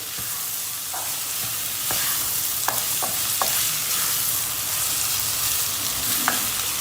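Flour stirred into a frying base in a pot for a tomato-pepper vermicelli soup: a constant close sizzle with several sharp utensil taps and scrapes against the pot scattered throughout.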